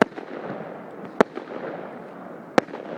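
New Year fireworks burst outdoors in two sharp, loud cracks over a steady background rumble, spaced more than a second apart.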